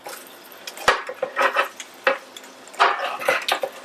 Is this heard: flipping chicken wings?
yes